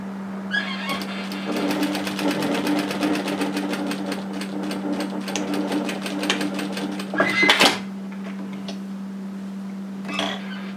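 A sewing machine runs a steady rapid stitch along a dress seam for several seconds, then stops with a short clatter; a faint voice is heard briefly near the end.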